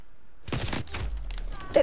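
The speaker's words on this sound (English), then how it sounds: "I'm just walking out and getting hit by grenades" Grenade blasts and gunfire in a Call of Duty match: a cluster of heavy, close bursts rolls through the first second, then thins into lighter crackling shots.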